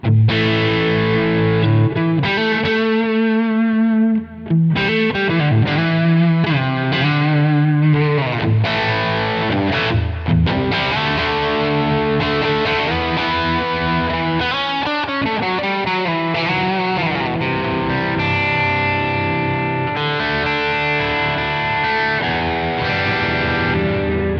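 Electric guitar played through a Tonex amp modeller with noise gate, compression, tape delay and plate reverb rings out in distorted chords and melodic lines, with echoing repeats and a wide, washy tail throughout.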